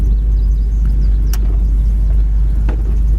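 A warmed-up 1972 Ford Mustang convertible engine idles with a steady, even low rumble, close and loud, holding constant throughout with no voices.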